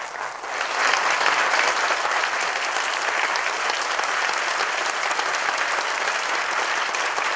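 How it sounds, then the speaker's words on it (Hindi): Loud, sustained applause from a large audience at a leadership training session, a dense roar of clapping that swells within the first second and holds steady throughout, no speech over it. "तो आप सभी लोगों के लिए एक बार जोरदार तालियां होना चाहिए।"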